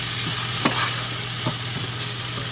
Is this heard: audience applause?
no